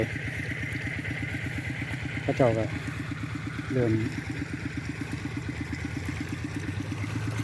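A steady, low tractor engine idles with a regular chugging pulse throughout in a rice field, while a person speaks briefly over it.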